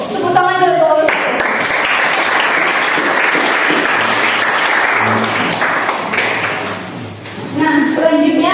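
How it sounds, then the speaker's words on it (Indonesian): A school class claps for group 1 in a steady, loud burst of applause lasting several seconds, with voices heard just before and after. "Tepuk tangan dulu kelompok 1."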